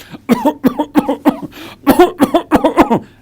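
A string of short, sharp coughs, close and loud, coming in two quick bursts separated by a brief pause.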